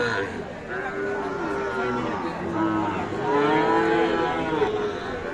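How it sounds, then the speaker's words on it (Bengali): Sahiwal bull calves mooing repeatedly, long drawn-out lowing calls over a busy background of crowd chatter and noise at a cattle market. "এই যে আমরা দেখছি এখানে দুইটি শাহিওয়াল ষাঁড় বাছুর"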